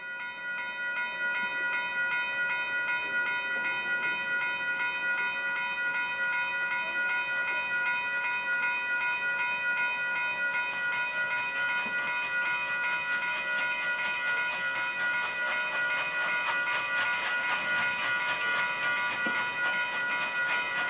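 Union Pacific 844 steam locomotive pausing at Pendleton, a steady sustained chord of whistle-like tones hanging over a low rumble, loud and unbroken, swelling slightly near the end.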